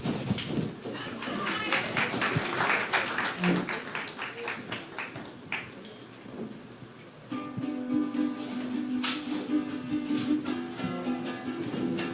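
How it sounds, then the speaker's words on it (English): Audience at the Tobago Heritage Festival 2023 media launch clapping after performers are introduced, a burst of applause with scattered sharp claps over speech, then music with singing begins. "Let's hear a round of applause for them."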